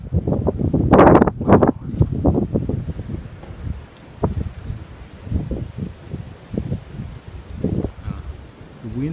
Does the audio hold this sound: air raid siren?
no